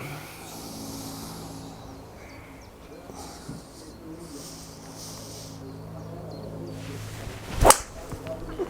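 A single sharp strike of a 3-wood fairway club on a golf ball rings out near the end, a crisp thwack over faint outdoor background noise.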